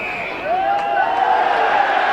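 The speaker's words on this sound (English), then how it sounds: "I don't know what the crowd's going berserk over" A rugby league crowd at a Warrington versus Leeds match roars loudly and steadily, a broad surging wall of noise that swells slightly and carries whistles and shouts through the whole stretch.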